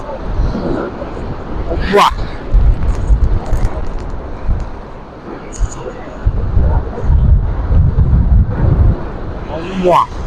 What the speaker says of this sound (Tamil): எல்லாம் வளைஞ்சு காத்து அடிச்சு கொண்டிருக்கு